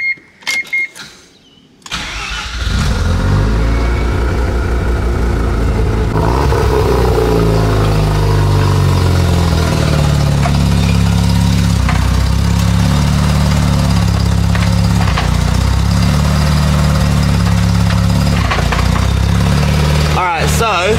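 A Mazda RX7 with a suspected drivetrain bushing fault starts up after a short quiet moment, then runs loud and steady close by, its engine note rising and shifting as it revs for about twenty seconds.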